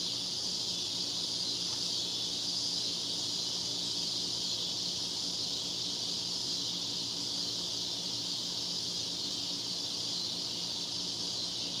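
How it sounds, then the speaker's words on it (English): Insects, locusts and crickets, chirp steadily at night in rural Mississippi, a constant high-pitched drone that stays even and fairly faint throughout, with no voices. "You can hear locusts and crickets simultaneously chirping in the background."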